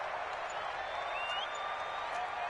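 A distant stadium crowd at a Minnesota versus Detroit football game keeps up a steady, even roar as the play builds toward a big third down.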